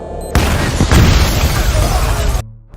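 A homemade bomb detonates in a film scene, a sudden loud boom followed by a sustained roaring blast and rumbling debris lasting about two seconds before cutting off.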